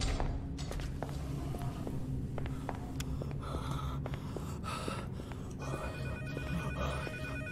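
In the horror video game Pacify, a telephone rings in repeated bursts, faint and somewhat distant, over a low droning background with scattered footsteps and breathy noises.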